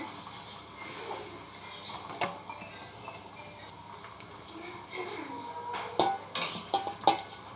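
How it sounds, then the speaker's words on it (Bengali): Boiled potatoes are lifted out of a wok of water for homemade chips, a quiet background of kitchen noise broken by several sharp metallic clinks of a utensil against the wok, clustered toward the end. "আমার আলুগুলো সিদ্ধ হয়ে গেছে। এবার আমি উঠিয়ে নেব কড়াই থেকে।"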